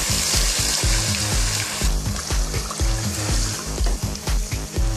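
Chicken frying in a pan with yogurt added, a busy close sizzle with wet bubbling and steady rhythmic stirring knocks underneath.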